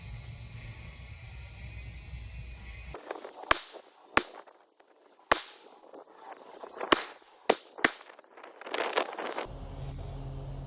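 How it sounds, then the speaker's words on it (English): Rifle shots of M855 rounds striking a GTS Model 6001 multi-curve ceramic body armor plate: about six sharp cracks spaced unevenly over several seconds, with outdoor background rumble before and after. "I just shot that plate a bunch of times with M855."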